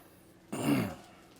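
A single short throat clearing with a slight cough, close and fairly loud, heard during a Spanish-language church Bible study, with quiet room noise before and after.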